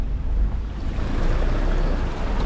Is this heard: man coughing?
no